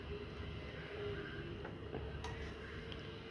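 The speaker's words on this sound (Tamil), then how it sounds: "இங்கே பக்கத்தில் வீடு கட்டுறாங்கப்பா, ஒரே சவுண்டு, பயங்கரமாக சவுண்டாக இருக்குது." Building work on a house next door carries in as a constant broadband rumble and hiss, steady and fairly distant, with a few faint taps and clicks poking through and no speech.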